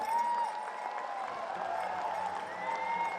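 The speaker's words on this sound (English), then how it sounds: "Everyone, please stand and give them a big round of applause." A standing crowd at an Every Child Matters pow wow gives a big round of applause, a full, sustained clapping with scattered cheers and faint voices mixed in, steady throughout.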